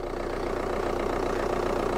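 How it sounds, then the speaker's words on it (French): A car engine idles roughly with a warning-lit dashboard and a disconnected component, producing a steady, loud, close rumble with uneven knocking pulses throughout and no voices. "Le moteur, mon gars."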